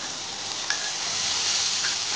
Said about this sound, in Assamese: মছলাখিনি এনেদৰে ঢালি দিব